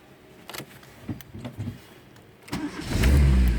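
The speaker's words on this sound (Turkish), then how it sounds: "Bir de benzinde marş basmayı deneyelim bakalım." A Fiat Tempra running on petrol after a spark plug overhaul: the starter cranks in uneven bursts, then the engine catches and rises to a loud, steady run close to the listener.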